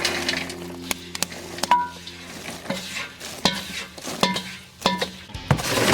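Freshly popped popcorn tumbles out of a pot, giving light scattered rattles and clinks with a few sharper metallic knocks, up close against a faint steady hiss.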